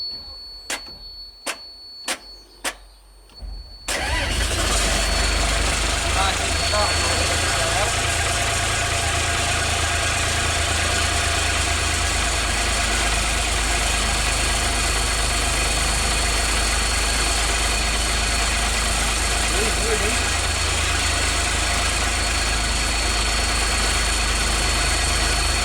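A Dennis Dart bus diesel engine starting from cold after a few clicks, then settling into a loud, steady, rumbling idle with rattling vibration that continues unbroken.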